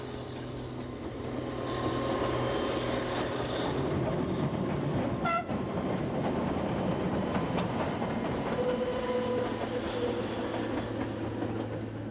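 The Corsican railcar X 97050 running along the line, a steady rumbling drone of engine and wheels, with a brief horn-like tone midway and the noise swelling slightly as it passes.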